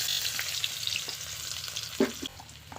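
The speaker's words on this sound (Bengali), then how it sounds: "পেঁয়াজটা আমি লাল লাল করে ভেজে নেব" Chopped onions, added with whole cumin, sizzle in hot oil in a wok: a soft, steady frying hiss with occasional stirring scrapes and one brief clatter, heard close and alone.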